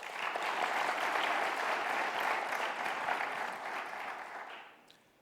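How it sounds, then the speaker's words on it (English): Applause from a conference audience for a retail group executive on a business panel, steady and dense for about four seconds before tapering off toward the end. "Chandra, round of applause for him, please."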